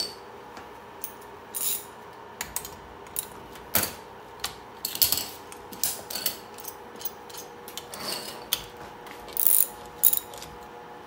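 Ratchet mechanism on a hornbow-making clamp setup clicking in scattered short bursts and single ticks, fairly quiet and close, with faint background hum and no talk.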